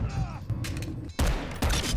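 Kimbo Deagles pistols firing in Modern Warfare 2, a few loud, sharp bursts of shots breaking through between quieter in-game sound.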